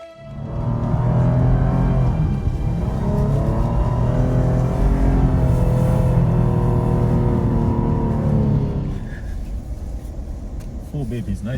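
A 4x4 vehicle drives over desert dunes, its engine a loud continuous roar with rising and falling revs that fades toward the end, while a person talks over it.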